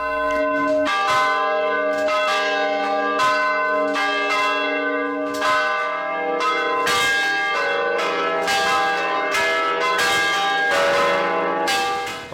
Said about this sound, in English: The West Bell Tower of Mother of God Church contains 4 swinging bells.